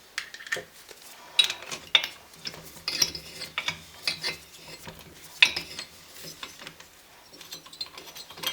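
A socket wrench ratchets against the head bolts of a BSA Bantam D7 motorcycle engine during a top-end strip down, giving repeated metallic clicks and knocks in irregular bursts, close and fairly quiet, with no talking.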